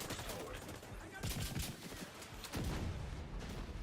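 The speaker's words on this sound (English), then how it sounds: "Let's use the rocket launcher" Rocket launcher fired in a shooter video game, a burst of explosive blasts and booms heard through dense, continuous game noise and gunfire over a few seconds.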